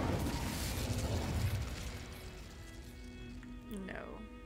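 An Incendio fire spell cast in Hogwarts Legacy, a burst of whooshing flame and crackle that fades, with someone talking over it.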